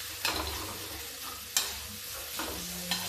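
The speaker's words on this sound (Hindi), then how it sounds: "अब इसको हम फिर से फ्राई करेंगे, गैस को तेज करेंगे जिससे मसाले हमारे जले नहीं।" Spices and tomato fry with turmeric on a high gas flame, a steady sizzle broken by four sharp spoon scrapes spaced out through the pan stirring.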